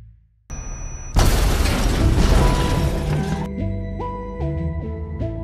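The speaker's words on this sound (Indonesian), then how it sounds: "untuk mengajar Ethan, mobil itu meledak akibat bom yang telah dipasangnya tadi" A car blows up from a planted bomb in the action film 3 Days to Kill: a sudden loud blast with a long crashing, rumbling tail, followed by ringing tonal music-like tones as debris settles.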